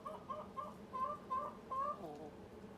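A hen that may no longer lay clucks in a repeated, agitated rhythm while picking a fight with another chicken, a moderately close but quiet sound over low background noise.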